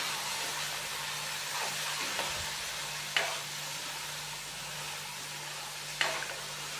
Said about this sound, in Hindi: थोड़ी सी यखनी डालेंगे इसके अंदर, 2 से 3 खाने के चम्मच। अच्छे से हम इसको मिक्स करेंगे।